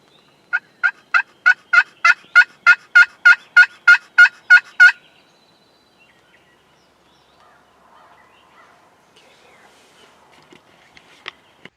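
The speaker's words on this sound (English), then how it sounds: "He's gobbling a little bit." A wild turkey gobbles in a rapid run of about a dozen loud, evenly spaced pulses outdoors on a rainy opening day of Ohio turkey season, then falls quiet with faint ambient patter and a sharp tick near the end.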